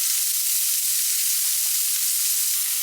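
Onions fry in a pan with a steady, even sizzle, close and continuous, with no voices.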